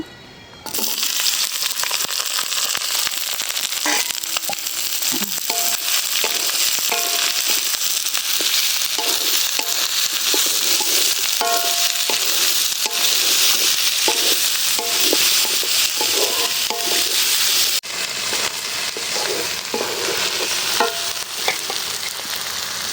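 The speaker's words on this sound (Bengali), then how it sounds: "পেঁয়াজটা একটু ভাজে নিতে ভালো লাগে।" Onions fry in hot mustard oil in a wok with a loud, close, continuous sizzle, overlaid by repeated scraping and stirring clatter of a spatula throughout.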